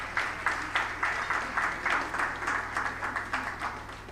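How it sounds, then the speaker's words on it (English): An audience at an insurance brokers' mid-year workshop in Nigeria gives a round of applause, moderately loud with a rhythmic, pulsing cadence of many hands clapping together over a low steady hum. "can we give him a round of applause?"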